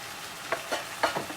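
Chicken for adobo sizzles in a pan with a soft steady hiss, broken by a few short scraping stirs of a utensil at close range.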